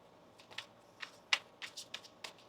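Tarot cards being shuffled by hand, a series of soft, quick riffling bursts and light card slaps in an irregular rhythm, close and quiet with no talk.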